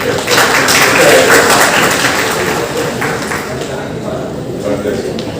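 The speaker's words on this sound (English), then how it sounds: "Big round of applause for this." Auditorium audience applauding at a college orientation programme, a dense sustained wash of clapping that stays loud throughout, with voices mixed into the crowd.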